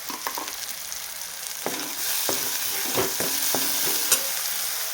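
Soybean bhaji sautés in a pan, with a steady frying sizzle and repeated scraping stir strokes that grow busier and louder halfway through.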